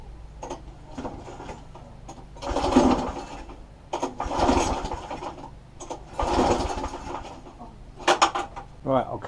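Repeated pull-start attempts on a lawn mower that will not start, each yank giving a brief rasping crank and sputter without catching, four or five bursts spaced a couple of seconds apart at close range.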